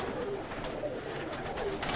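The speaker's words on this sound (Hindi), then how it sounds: "ये अंबाले वाले फकीर कुल कबूतर है माशाल्लाह" Ambala fakir-breed pigeons coo softly in a few low, rolling calls over a steady background hiss, fairly quiet and unaccompanied by voices.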